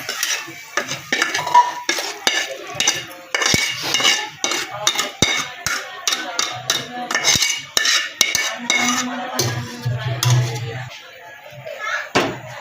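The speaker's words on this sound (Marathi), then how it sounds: "मगाशी गरम केलेलं पाणी मी ह्याच्यामध्ये टाकत आहे मसाल्याच्या कढईमध्ये" Hot water goes into fried masala in a kadhai for a spicy village chicken curry, followed by stirring with frequent close metallic clinks, scrapes and knocks in an irregular rhythm.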